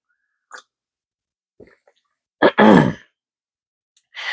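A person clears their throat once, a short rough burst close up, surrounded by near silence and a few faint breathy sounds.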